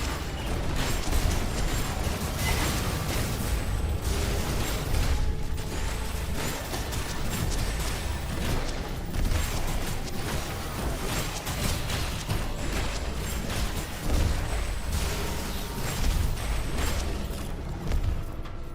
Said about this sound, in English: Radiant Explosion plus Black Hole is just fantastic.